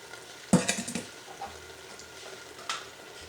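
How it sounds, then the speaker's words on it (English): Canned beans are dumped into an Instant Pot, a sharp clank followed by a series of wet, rattling thuds and scrapes of metal, then a later clink, close and without talk. "We dump in our beans."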